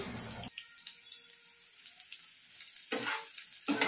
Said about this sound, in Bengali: এইভাবে করে উল্টে পাল্টে করে আমি ভেজে নিচ্ছি।